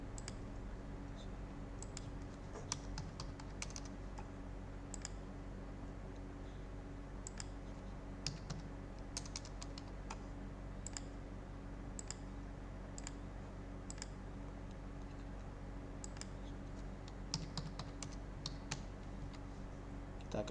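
Username and password being typed on a computer keyboard, irregular light key clicks spread across the whole stretch, fairly close and quiet.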